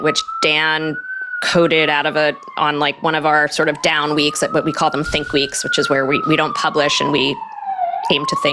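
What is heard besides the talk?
fire department vehicle siren passing in street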